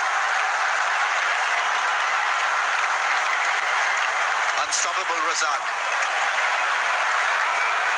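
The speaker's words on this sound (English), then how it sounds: "Crowds are delirious." A cricket crowd at a match against England roars and applauds steadily after a big hit by Abdul Razzaq, a dense, unbroken wall of cheering and clapping under excited commentary.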